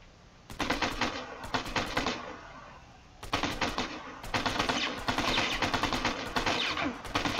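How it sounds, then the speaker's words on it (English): Video game gunfire in bursts of rapid automatic shots, loud and close, pausing briefly then resuming in longer sustained strings, with no talk over it. "who the fuck is shooting me right now?"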